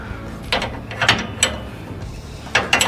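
A torque wrench tightening zinc-coated 5/8 grade 8 hitch bolts on a Ford Super Duty truck: close, quick clusters of metallic ratchet clicks in uneven bursts, with no talking.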